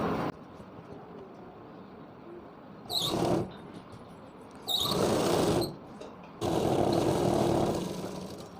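A sewing machine stitches lehenga panels in three separate bursts of whirring, each a couple of seconds long, with quiet pauses between them.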